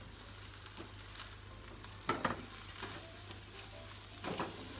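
Sausage frying in a pan with scrambled egg, a low steady sizzle with a few louder stirring scrapes, close and with no talk.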